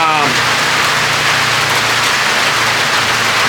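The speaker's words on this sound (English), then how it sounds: "if you can hear me over the rain" Steady, heavy rain pours down in a continuous hiss, loud and close, with no pauses.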